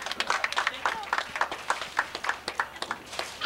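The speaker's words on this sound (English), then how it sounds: "Let's give her a round of applause" An audience at a 1992 church performance applauds a seven-year-old birthday girl, with dense, steady handclaps of moderate loudness and a faint voice mixed in.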